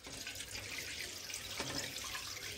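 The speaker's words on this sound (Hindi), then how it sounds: "ये देखो, कढ़ाई में दूध डाल लेते हैं।" Full cream milk, one litre, pours in a steady, faint liquid stream into a heavy-bottomed kadai on a gas stove, continuous without breaks.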